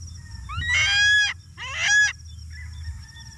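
A bird calls out in two loud, harsh honking bursts close by, each about half a second long, over a low background hum, followed by fainter chirps.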